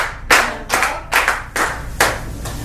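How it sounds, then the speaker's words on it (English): Hands clap together in a group of about six distinct loud claps, each followed by brief reverberation, spaced roughly half a second apart at a meeting, with no talking. "Oh wait, applause, huh?"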